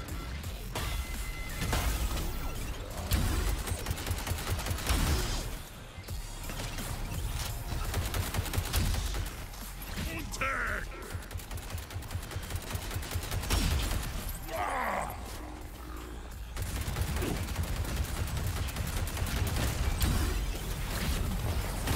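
Gunfire in the arcade shooter Arcadegeddon, dense rapid shots and crashing impacts running through most of the stretch, loud and busy with a short lull near the middle.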